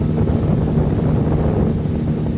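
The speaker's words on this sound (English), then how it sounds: "There's a standalone barge hustling downriver." A standalone river barge moving fast downriver and throwing up waves, heard as a steady loud rushing of water and engine drone with wind buffeting the microphone throughout.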